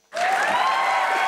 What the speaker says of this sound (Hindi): तालियां हो जाइए